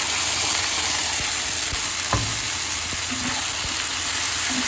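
Onions and tomato puree fry in a pan with a loud, steady sizzle, a few faint clinks and stirring scrapes over the constant crackle.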